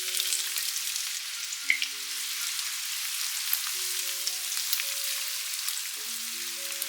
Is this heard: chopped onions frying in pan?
yes